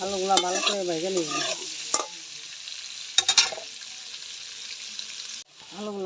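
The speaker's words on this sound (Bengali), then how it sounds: "লাল লাল করে আলুগুলা ভেজে নিচ্ছি" Potatoes fry in a pan for a vegetarian aloo dum until reddish-brown, a steady hiss of sizzling oil with a few sharp stirring clicks. A voice talks at the start and again at the end, and the sizzle briefly cuts out near the close.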